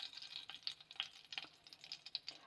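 Mustard seeds spluttering and popping in hot oil for South Indian coconut sevai, a faint, quick scatter of crackles and small pops over a soft sizzle.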